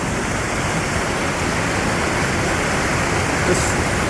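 The Mesa waterfall pours down steadily as fast-flowing water, a loud, dense, unbroken rush that fills the whole scene with no other sounds standing out.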